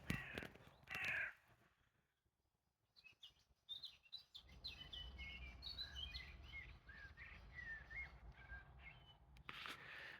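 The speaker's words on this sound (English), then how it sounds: "A raven came and watched me now." A raven calls outdoors with a few harsh caws near the start, followed by fainter chirping birds and a low rumble of ambient noise, with another loud burst of sound at the end.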